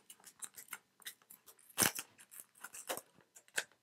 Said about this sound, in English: You take a water bottle. We cut off the top.